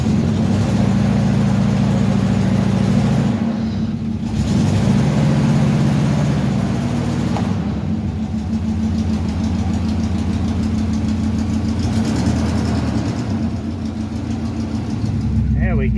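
A 1971 Plymouth Satellite wagon with a worn, low-transmission-fluid drivetrain runs and drives, a loud low engine rumble rising and falling with throttle throughout, with a person talking over it.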